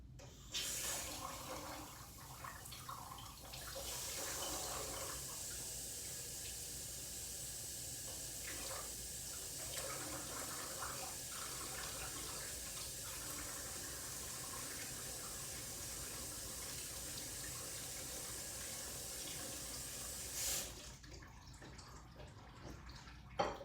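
Water trickles and splashes into a container for a long stretch while a solute is dissolved, with faint clinks and scraping as it is mixed, ending with a few sharp taps.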